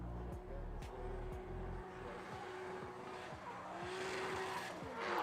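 A Nissan 200SX drift car slides through a turn at a Lithuanian drift championship in Siauliai, engine revving and tires squealing in a long screech, heard from a distance against crowd ambience.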